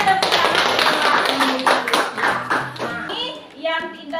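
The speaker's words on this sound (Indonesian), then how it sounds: "Ya, bagus sekali ya, tepuk tangan." Students clapping in a classroom lesson, a run of fast rhythmic claps under a child's and teacher's voices, ending with speech as the clapping stops.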